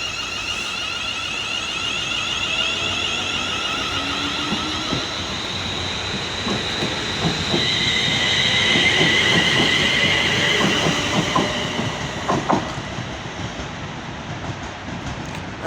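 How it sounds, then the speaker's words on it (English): London Northwestern Railway passenger train bound for Walsall pulling away from Bescot Stadium station, with a rising electric traction whine, faint wheel squeals, and clattering wheels over rail joints that grow louder and closer before fading. "Cab road to depart will be the 1323 London North Western Railway service bound for Walsall"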